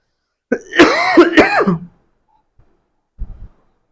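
A person with a cold and fever coughs and clears their throat in a short burst, then a brief softer throat sound follows after a pause.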